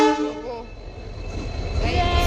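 A passenger train rumbles past close by, its deep, heavy rolling growing louder toward the end, with a few sustained horn-like tones near the start.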